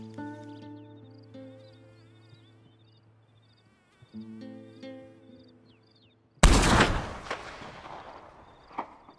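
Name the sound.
rifle gunshot in a video game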